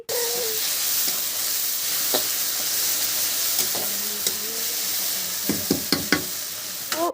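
Onions and masala fry in a pan, a steady loud sizzle and hiss with intermittent scraping clinks of a spoon stirring, clustered toward the end.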